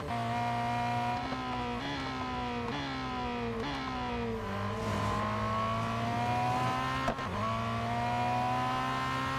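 A race car engine in the Real Racing 3 mobile game, droning loud and continuous as it revs up through repeated gear changes, each shift marked by a brief pitch drop, with no voices.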